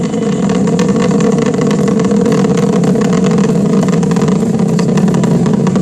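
The Atlas V rocket's engines and strap-on boosters roar during ascent as a steady, loud, dense broadband rumble with a constant crackle, unbroken and with no voices over it.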